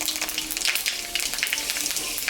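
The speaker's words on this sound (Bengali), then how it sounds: "ভাজা তেলের উপরে শুকনো লঙ্কা আর পাঁচফোড়ন সম্বরা দিলাম।" Dry red chillies and panch phoron tempering in hot oil, a steady crackling sizzle with dense spitting pops, close and fairly loud, with no voices over it.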